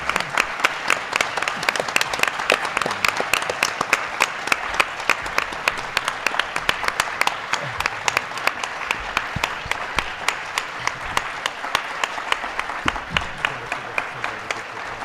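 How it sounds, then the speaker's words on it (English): A seated audience gives a veterans' community panel a sustained round of applause, steady dense clapping lasting about fifteen seconds at moderate level with no talk over it. "So let's have a round of applause for our wonderful panel today."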